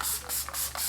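Facial mist spray bottle spraying close up in a quiet room: four quick, soft hissing pumps in a steady rhythm, with no talking.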